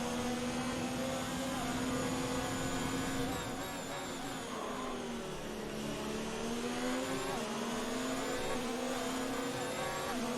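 Formula 1 car engines in the F1 2019 racing game, a steady loud high-pitched whine with a nearby rival's engine rising and falling in pitch alongside, continuous throughout.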